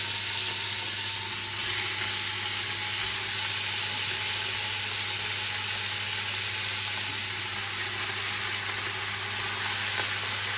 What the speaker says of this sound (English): then start frying your bacon.